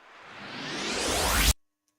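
A short synthetic riser of filtered white noise swells steadily in pitch and loudness over about a second and a half, then stops dead into silence. It plays alone with no talk.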